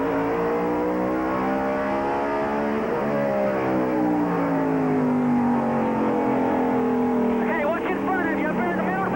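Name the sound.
race car engine from in-car camera at Martinsville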